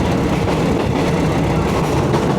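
Ordinary passenger train 445 from Chumphon to Hat Yai, stopped at Tha Chana station in Surat Thani, with a steady, loud rumble of rail and engine noise throughout and no talk.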